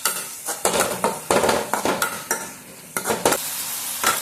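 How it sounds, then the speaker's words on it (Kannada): Tomatoes and coriander leaves fry in a pan for an egg rice dish, with a steady sizzle under repeated scraping and clinking strokes of a spoon stirring against the metal, up close and without talk. "ಕೊತ್ತಂಬರಿ ಸೊಪ್ಪನ್ನ ಹಾಕಿ ಚೆನ್ನಾಗಿ ಫ್ರೈ ಮಾಡ್ಕೊಳ್ಳೋಣ"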